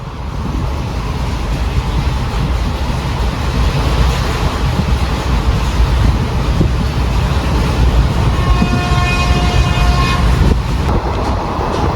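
Sengottai Express running at speed between Karur Junction and Madurai, heard from a window seat inside a nearly empty coach: loud continuous rumble with rhythmic wheel clatter, and a horn sounding near the end.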